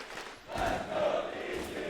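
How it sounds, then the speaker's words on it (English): A crowd cheers at a Rainbow Six Siege esports quarter-final match at the Six Charlotte Major, with a swelling roar from a large audience and a faint raised voice within it. "Crowd finally feeling it."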